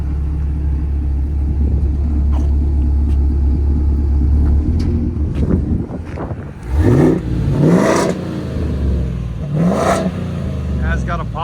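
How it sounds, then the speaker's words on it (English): Ford F-350 pickup with a 7.3L gas V8 and louder exhaust, a deep rumbling idle that rises into a couple of throaty revs partway through, with someone talking over it. "Can hear the idle on it now."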